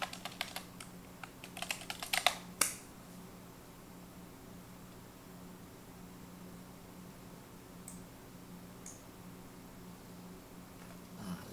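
A short flurry of quick, close clicks on a computer keyboard as a web search is typed, ending after a couple of seconds and followed by quiet room hum with a few faint ticks.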